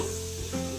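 Onion sizzling as it fries in a pan with garlic, part of Filipino home cooking, a steady close crackle with a brief stir midway.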